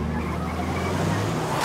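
A car in an action film accelerates hard and skids, a close, steady engine roar with tire squeal over about two seconds and no voices.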